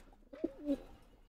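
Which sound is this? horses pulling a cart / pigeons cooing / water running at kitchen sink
pigeons cooing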